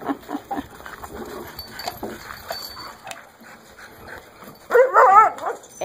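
A dog gives a few yips and whimpers, then one louder sharp bark burst near the end, at close range with no talk.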